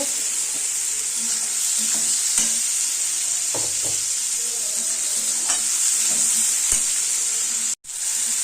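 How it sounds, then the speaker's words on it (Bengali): Prawns fry with browned onions in a pan, giving a steady, close sizzle with occasional stirring scrapes and clicks and no talk. "ভাজা ভাজা পেঁয়াজের মধ্যে দিয়ে দেবো চিংড়ি মাছ চিংড়ি মাছটাকে দিয়ে ভালো করে ভাজা ভাজা করব"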